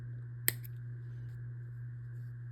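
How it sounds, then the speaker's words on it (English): A single sharp snip of scissors cuts through a crochet yarn tail, close and brief, over a low steady hum in a quiet room. "I'm going to cut a little bit of a tail that we can sew in"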